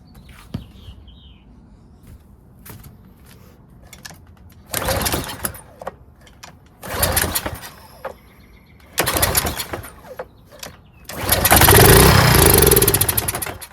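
A Craftsman pressure washer's small engine, after a carburetor fix with the choke closed, is pulled over in several short bursts that end in a louder, sustained run near the finish, with no talking.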